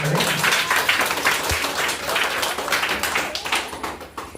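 Audience applause for singing students at a Basava Jayanti function, a dense, continuous patter of many hands clapping close by, steady through the whole stretch and fading slightly near the end.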